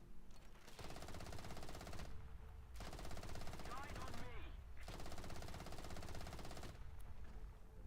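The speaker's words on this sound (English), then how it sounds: "Someone else is machine gunning me." Continuous machine gun fire in the War Thunder Mobile video game, steady rattling bursts broken by a few short pauses. The firing is loud and sits under a voice talking.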